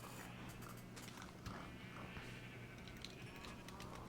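Minecraft sheep that have regrown their wool bleat in a farm area of the game, with several soft bleats scattered over a steady low background and occasional light thuds, all faint and distant.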